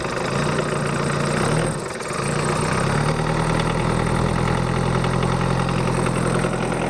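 A Mitsubishi Kuda diesel engine idles slightly rough, a close, steady low rumble with a continuous drone and a brief dip in level partway through.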